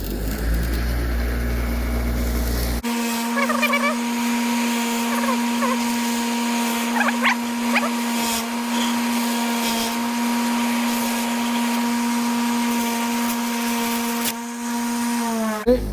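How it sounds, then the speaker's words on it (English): A bench wire wheel spins up with a loud, steady motor whine and whirr as a part from an old Snapper lawn mower is pressed against it, with brief scratchy bursts of wire on metal. "We've got this part here, which I'm going to put on Mr. Wire wheel here."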